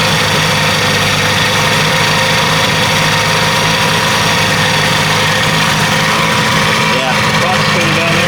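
A 1967 Sears outboard boat motor running steadily on the water, loud and close, with a constant buzzing drone throughout and no break in its rhythm.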